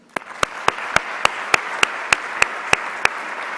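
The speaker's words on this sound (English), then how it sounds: "let's give them also an applause and recognition and gratitude for their role in your accomplishments" A graduation audience applauds to honour families and friends: a steady wash of crowd clapping under about a dozen sharp, evenly spaced single claps from one nearby person.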